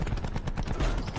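A DMR rifle in a video game fires a rapid string of loud, closely spaced shots that blend into a dense, continuous volley.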